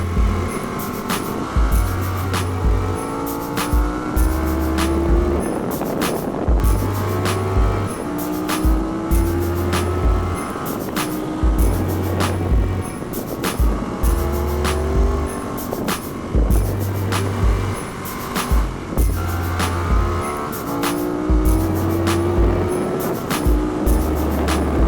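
Motorcycles on a race track during a track day, engines droning loudly and steadily with rising and falling revs as bikes pass, a continuous dense roar with repeated pulsing passes and no talking.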